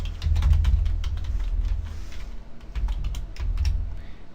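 Keys clatter steadily on a computer keyboard, close and fairly loud, a quick irregular run of taps with deep thumps underneath, with no one talking.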